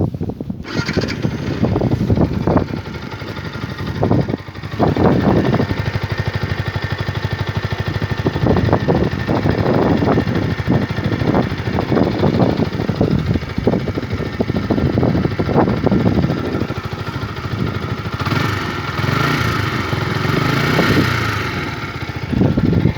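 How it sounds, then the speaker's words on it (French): A motorcycle engine runs steadily and loud up close, idling with a rough pulsing rumble and occasional revs throughout. "le son moteur maintenant, c'est parti"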